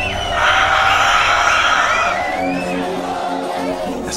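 A party crowd at a DJ set cheers and screams in a frenzy, a loud, dense wall of whoops and yells that swells early and holds steady throughout.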